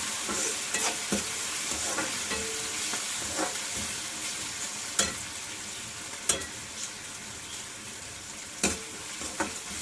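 Prawns fry and sizzle in a pan under a steady hiss, with sharp metallic scrapes and clacks of stirring recurring every second or two; no voices.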